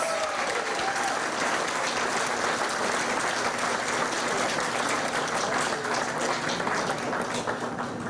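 Sustained audience applause at a Hawaii Democratic primary victory gathering, a dense, even roar of clapping from a large crowd, loud and continuous with faint crowd murmur beneath.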